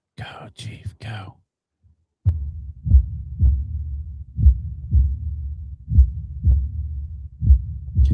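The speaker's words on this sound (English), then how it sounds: "Can you hear his heartbeat all the way through the monitors?" A heartbeat comes through studio monitors as a steady series of loud, low thumps, roughly one per half second, after a brief stretch of talk at the start.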